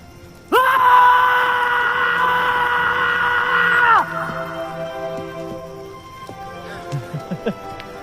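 A loud sustained group scream lasting several seconds, dropping off abruptly into quieter voices and short shouts at a distance, as in a film scene.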